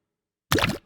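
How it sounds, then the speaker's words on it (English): A water splash sound effect built for a casual game: one short, close splash bursting in suddenly, then quickly tailing off into a faint wet residue, with silence before it. "Next, a splash of water."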